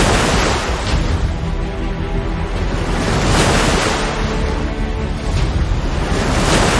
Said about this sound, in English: The ark creaked and swayed on the rising waters.